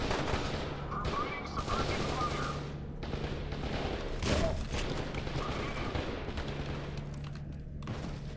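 Submachine gun fire in F.E.A.R. 2, rapid bursts of shots rattling through a dense, busy game soundscape at moderate distance, with a low steady hum underneath and voice in the mix.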